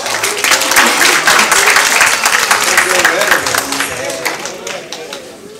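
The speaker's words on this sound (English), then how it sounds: "Let's give her a big round of applause." Wedding guests applauding the maid of honor before her toast, a loud crowd of clapping hands with cheering and voices mixed in, gradually fading toward the end.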